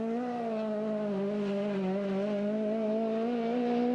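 A BMW rally car engine drones steadily on stage 2 of the 1987 Cork 20 rally in poor weather, holding a loud, sustained, slightly wavering pitch throughout without letting up.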